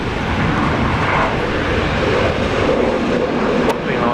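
REX Regional Express airplane taking off on a domestic flight from Brisbane International Airport, a steady, loud engine roar throughout without talk.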